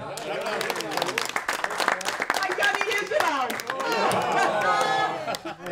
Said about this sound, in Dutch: applaus voor Jan.